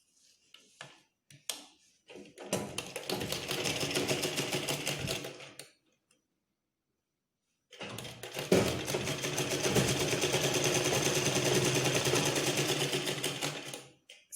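Electric sewing machine stitching the side seams of a silk skirt for a baby girl, two sustained runs of rapid, even mechanical whirring, each several seconds long, separated by a short silent pause.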